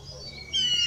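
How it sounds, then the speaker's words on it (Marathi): Birds chirp at moderate distance, thin high tweets that grow brighter and more insistent halfway through, alone over a faint background. "पक्ष्यांचा किलबिलाट,"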